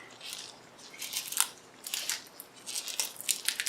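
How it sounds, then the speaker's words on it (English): Sticker slowly peeled off a fingerprint evidence item in a forensic lab setting, heard as close, quiet crackling and tearing bursts in several short spurts. "So I will very carefully peel off the sticker"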